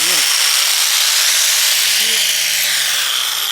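Sanding a fiberglass custom center console produces a loud, steady, close abrasive hiss that fills the whole short stretch without a break.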